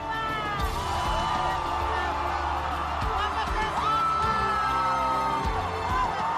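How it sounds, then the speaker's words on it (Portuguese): A large crowd of faithful screams, whoops and cheers for the Pope in a dense, continuous roar with rising and falling shrieks, loud and steady throughout. "Os gritos da multidão parecem ter saído de um show de rock."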